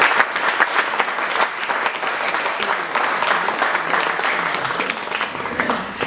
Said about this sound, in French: Alors oui, on peut applaudir.